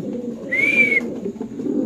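One pigeon gives a single brief call over a low murmuring background of other pigeons cooing, close by.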